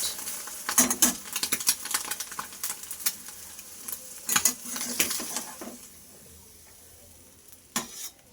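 Crisp sizzling and crackling of an egg frying in a pan until crunchy, with close spatula scrapes and metal clinks against the pan, loud at first and then easing off.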